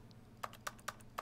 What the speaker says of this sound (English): I'm left-clicking and it sounds like I'm at typing.